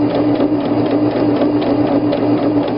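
A sewing machine stitches a buttonhole in fabric for a tote, producing a close, steady rapid mechanical chatter with rhythmic clicking throughout.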